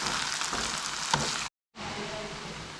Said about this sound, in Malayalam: ഇനി നമുക്ക് ഇതിലേക്ക് മസാലപ്പൊടികൾ തീർക്കാം സമയത്ത് നമ്മൾ ഫ്ലെയിം നന്നായിട്ട് കമ്മിയാക്കണം നന്നായിട്ട് മിക്സ് ചെയ്ത് കൊടുക്കാം